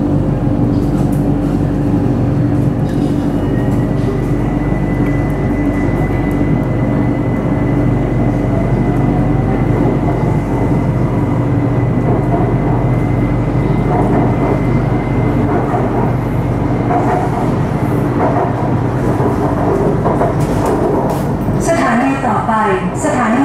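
A BTS Skytrain on the Silom Line in Bangkok runs with a steady, loud, continuous rumble and hum through the whole stretch, with a faint rising whine partway through and a brief rattle near the end.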